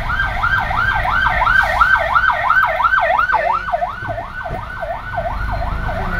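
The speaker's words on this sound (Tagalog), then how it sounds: "pabikin natin, may ambulansya" A loud wailing ambulance siren sweeps up and down repeatedly over low traffic rumble, close by and steady, during typhoon flooding and landslides in Carranglan, Nueva Ecija, Philippines.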